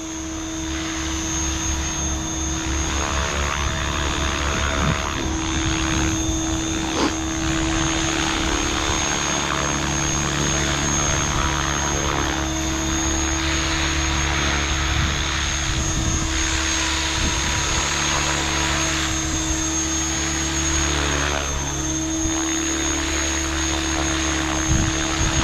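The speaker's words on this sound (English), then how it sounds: "first time I've flown this helicopter or this flight controller" A Synergy 516 RC helicopter on its first flight outdoors in light wind, with a steady, loud rotor and motor whine and a droning buzz that holds almost unchanged through the whole stretch, close to the microphone.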